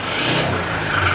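Honda ADV160 scooter engine revving while faulty, suspected connecting rod or crankshaft damage, giving a rising mechanical roar with a steady high whine over the top, close and continuous with no talk.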